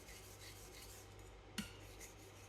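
A kitchen knife is drawn across a whetstone in a quiet, steady rasping rub, with one sharp tap partway through and no voices.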